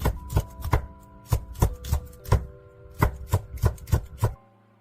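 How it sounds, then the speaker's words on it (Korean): A knife chops green and red chili peppers crisply against a cutting board in quick, uneven strokes, about a dozen sharp taps close up with no voices. "청홍고추는 송송 썰어주세요."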